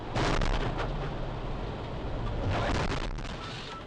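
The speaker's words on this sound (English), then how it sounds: "a loud explosion echoes" A deep, rumbling blast rolls out loudly and lingers as a broad roar, swelling again midway before tapering off, with no voices.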